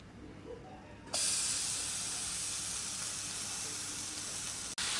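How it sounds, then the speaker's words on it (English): Bacon pieces frying in a pan, a hiss that suddenly jumps loud and stays steady and close, then breaks off for a moment near the end, with no talking. "While that bacon is cooking, I'm going to prepare my chicken."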